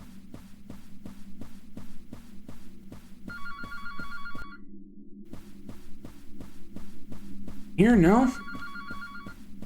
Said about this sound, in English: Man, how far is this phone anyway, and how loud is it? I'm able to hear it all the way from my bedroom.